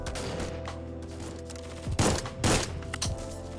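Gunfire from the Forward Assault shooter game: a rapid volley of shots with a few louder, closer blasts standing out partway through, set against a steady mechanical background with no talking.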